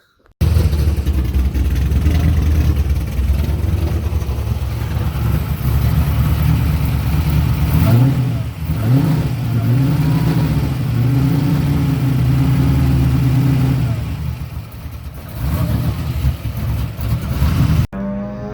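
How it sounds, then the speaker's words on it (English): Race car at Willow Springs on test day doing a tire burnout, its engine roaring loud and close and holding high revs for most of the run, with a pitch dip and recovery midway and a brief drop near the end. "go burn up what's left on those tires right there"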